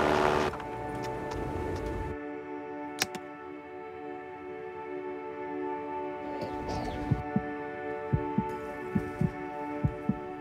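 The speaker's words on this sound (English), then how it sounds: "This song was created with heartbeats of children in need." Music built from children's heartbeats: low rhythmic heartbeat thumps pulse under a sustained humming drone, with sharp beat-like hits growing more regular toward the end.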